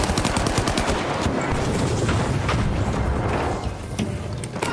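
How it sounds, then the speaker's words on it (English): Dense, loud rattling bursts of gunfire and blasts fill a match of the video game The Finals, continuous for the whole stretch with a slight drop near the end rather than one clear grenade detonation. "I'm grenade out!"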